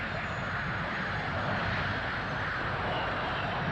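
An English Electric Lightning jet aircraft in flight gives off a steady, dense roar of engine noise, continuous and unchanging, with no talk over it.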